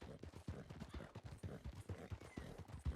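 Horse hooves clopping at a steady galloping rhythm in the Red Dead Redemption game, repeated low thuds close and moderately loud, with no voices over them.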